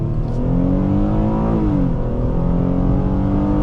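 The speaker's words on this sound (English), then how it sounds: "I love the sound of the engine." A 2014 Ford Taurus Police Interceptor with the 3.7L engine accelerates hard, its loud engine note climbing steadily in pitch, dipping briefly at a gear change, then rising again, heard from inside the car.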